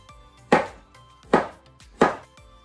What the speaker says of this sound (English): for the garlic cloves, we are just gonna cut them to slices